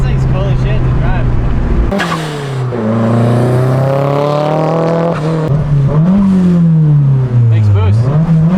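A Nissan S14 with a turbocharged SR engine pulls hard, its engine note climbing through the gears in rising sweeps with brief dips at each shift, loud and close from inside the car; a voice talks over it at the start.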